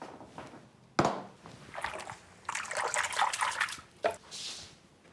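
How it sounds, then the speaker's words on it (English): Hands being washed under a running kitchen tap, a soft trickle and splash of water with brief clatters and a sharp knock, close and moderately loud, with no talking. "let me quick wash my hands and get the lettuce all set up."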